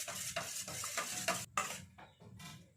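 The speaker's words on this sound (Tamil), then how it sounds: "பால் முட்டையை நல்லா கலந்துடலாம்." A whisk beats egg and milk rapidly against a bowl in quick rhythmic strokes, close by, with brief pauses between bursts of mixing.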